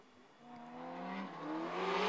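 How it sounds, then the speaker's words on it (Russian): Drift race cars launching side by side in a top-16 duel at an RDS GP round in Ryazan, engines rising in pitch as they accelerate, loud and close with no talk. "Как близко два автомобиля."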